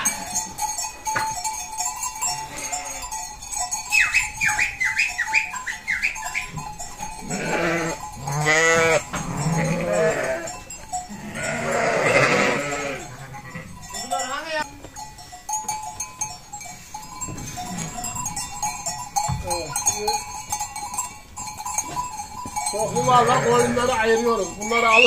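Karya sheep and lambs bleat repeatedly in a barn as ewes and lambs are separated, with cowbells clinking and people talking over the flock throughout.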